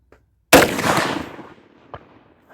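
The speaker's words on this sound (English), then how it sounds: "I've got another Firestick loaded up and another bullet. Still aiming for the center of the target." A CVA Crossfire muzzleloader rifle loaded with a Firestick charge fires one loud, close blast that rolls off into a long decaying rumble, followed by a faint knock.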